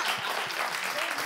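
An audience in a broadcast studio claps in steady applause, a dense crackle of many hands, fairly near and continuous for the whole moment, with a faint voice underneath.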